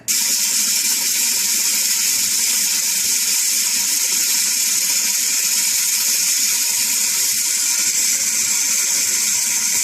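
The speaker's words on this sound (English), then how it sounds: "we're going to fill it up with water." Water running from a kitchen sink tap into a pot holding a stone molcajete, a steady, loud hiss and splash that continues unbroken, close by and with no talk.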